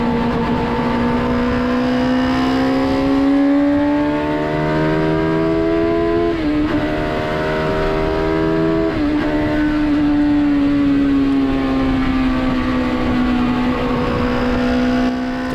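A car powered by a motorcycle engine drives along, its high-revving engine loud and close, holding a steady pitch with brief dips at gear changes before it climbs again, and no one talks.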